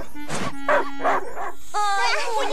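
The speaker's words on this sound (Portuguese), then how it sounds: "É um cachorro com três cabeças." A cartoon three-headed dog, Cerberus, barks and yips in a quick series of short, close calls, ending in a drawn-out whining howl.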